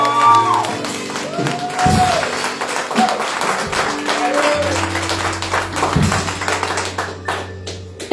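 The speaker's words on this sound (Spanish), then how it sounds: "debe ser un aplauso más fuerte" A church congregation claps in a loose, steady burst of applause that fills the room, with scattered shouts and voices mixed in and tailing off near the end.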